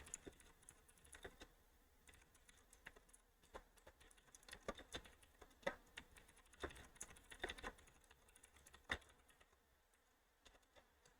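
Typing on a computer keyboard, a steady patter of soft, irregular key clicks at close range that stays quiet throughout, with no one talking.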